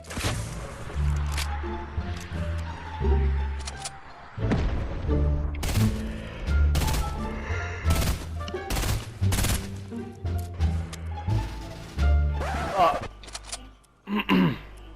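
Gunfire from the Fortnite video game, with repeated sharp shot bursts and rapid volleys, loud and close, over tonal game background sound.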